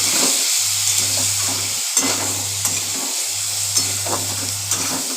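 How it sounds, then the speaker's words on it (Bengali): A spatula stirs mixed vegetables with salt and turmeric in a hot pan, giving a steady sizzle with rhythmic scraping strokes, close and clear, with no talk. "এবার একটু নেড়ে চেড়ে নিচ্ছি ভালো করে"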